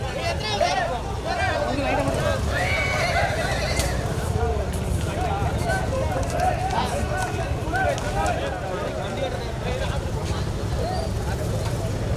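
Horses whinny and neigh amid a noisy crowd and shouting voices at a horse cart race in Pollachi, with the neighs rising over constant babble.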